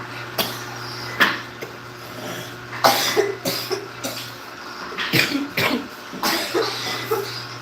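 Several separate coughs scattered over a few seconds, some sharp and some throaty, close by over a faint steady hum.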